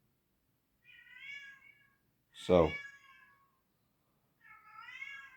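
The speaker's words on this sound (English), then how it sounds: "you hear my cat meowing" A cat meows twice, close and clear, with a single short spoken word between the meows.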